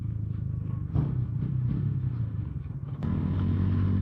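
A Pulsar N150 motorcycle rumbles through a turn, its engine note easing and building with a sharper surge of throttle near the end, close and fairly quiet, with no talking.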